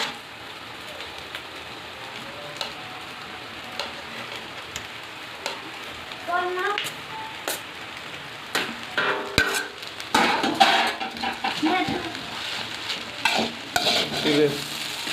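White rice being stirred in a frying pan for home-style chicken rice, with soft scraping and light sizzling that grows busier and louder in the second half.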